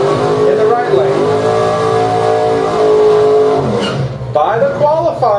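A 1997 Mustang race car sits in the right lane at a drag strip, its engine held at a loud, steady high rev with rich harmonics, dipping briefly near the end before climbing again, while an announcer talks over it.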